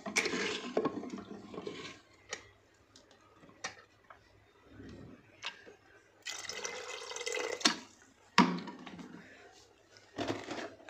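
Water poured into a cooking pot to boil rajma (kidney beans) for a dhaba-style curry, heard as intermittent splashing and dripping bursts with short quiet gaps between pours, close by and moderately loud.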